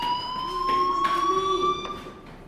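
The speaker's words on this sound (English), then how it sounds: "Hey, do you hear that fire alarm?" A fire alarm rings in the video game Life Is Strange, a steady electronic tone held throughout at moderate loudness, with a faint pulsing warble and no voices.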